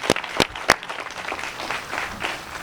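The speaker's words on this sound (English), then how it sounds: "Let's give them all a round of applause," Applause from a gathered crowd outdoors at a Juneteenth celebration: a few sharp claps up front, then a thinner scattered patter of hands continuing at moderate distance.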